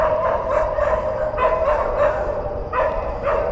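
Several dogs bark in quick, repeated bursts, about half a dozen sharp barks at moderate distance over a steady outdoor background.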